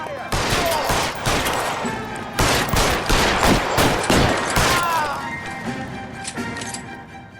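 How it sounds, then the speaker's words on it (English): Rapid gunfire crackles through a shootout in LA Noire, with dense volleys of sharp, close shots hammering on for several seconds and voices faintly audible beneath. "Open fire!"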